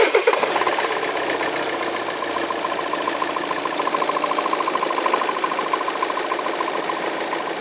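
A Volvo XC90 engine, with its mounts removed, catches and settles into a steady idle with a fast, even mechanical chatter, fairly close and unbroken throughout.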